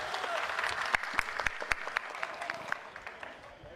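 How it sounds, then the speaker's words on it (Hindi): Audience applause for Akhilesh Yadav at a political gathering with 37 Uttar Pradesh MPs: a steady wash of clapping with distinct sharp claps standing out, tapering off near the end. "तालियां बजाओ अखिलेश भाई के लिए आप लोग।"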